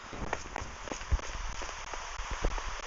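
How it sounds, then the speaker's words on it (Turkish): Rain falling in the Minecraft video game, a dense steady patter with scattered sharper drops and taps, moderately loud and continuous throughout. "Hadi ki dışarıda yağmur var."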